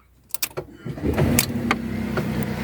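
A 2024 Fiat Panda Hybrid's 1-litre engine cranks with a few quick starter pulses, then catches and settles into a steady, loud idle, recorded up close with the bonnet open.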